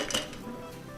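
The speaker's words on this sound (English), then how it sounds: "A couple more ice cubes." Ice cubes clatter into a cocktail shaker while a Peeps-infused martini is being made, a quick burst of clinking and rattling up close, fading to a softer settle within a second.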